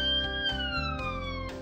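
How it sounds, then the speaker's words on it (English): A wailing emergency siren sweeps in pitch, with steady repeating tones, up close and continuous throughout. "When you hear the sirens,"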